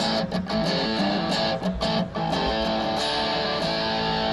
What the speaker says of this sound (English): now it turns into more of a distortion pedal